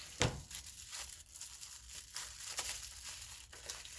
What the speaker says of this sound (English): I'm going to rip them open like a animal